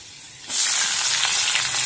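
Chopped garlic and onion hit hot oil in a pan for a lau data vegetable curry, and a loud, steady sizzle bursts up suddenly and keeps frying close by without a break.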